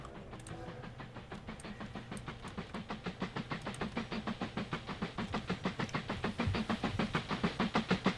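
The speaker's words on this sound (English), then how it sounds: "And all my passenger trains are running on this loop" Passenger trains in the Mashinky transport game chug along a loop with a steady, rhythmic clatter that slowly grows louder and closer.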